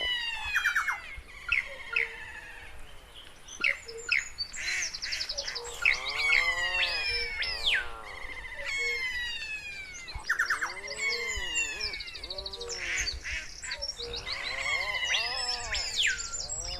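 A varied mix of bird calls fills the recording: chirps, tweets, squawks and sweeping whistled notes overlap continuously at moderate loudness, with no talking.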